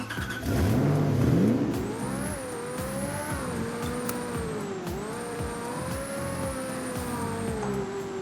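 Car engine revving in the Roblox game Car Crusher 2, a steady mid-pitched drone that rises and falls with throttle changes, loud and continuous throughout with a brief stronger burst near the start.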